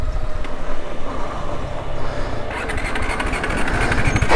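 A KTM 390 Adventure motorcycle engine turns over and catches on a hill road, its rumble rising and growing louder toward the end, close to the listener and with no talking.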